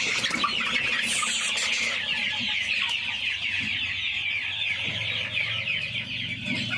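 Broiler chickens on a poultry farm cluck and chatter in a dense, continuous flock chorus, fairly close and steady throughout with no voices.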